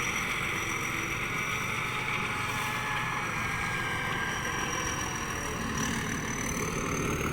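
A rice combine harvester's engine drones steadily and loudly throughout, a rough, continuous rumble with no voices.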